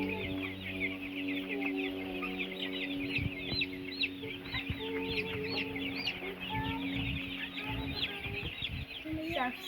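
Baby chicks on a farm peep constantly in high, overlapping chirps, with clucking adult hens mixed in, close and continuous over a low steady hum.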